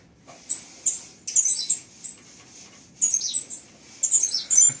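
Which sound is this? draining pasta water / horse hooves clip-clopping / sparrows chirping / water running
sparrows chirping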